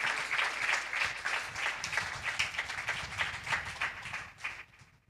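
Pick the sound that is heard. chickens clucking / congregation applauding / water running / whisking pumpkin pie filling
congregation applauding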